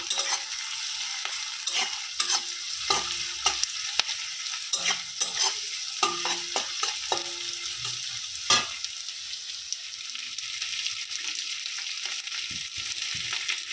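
Onion and boiled potato fry in a pan, a soft background sizzle punctuated by frequent close scrapes and knocks of a spatula stirring against the pan in irregular bursts.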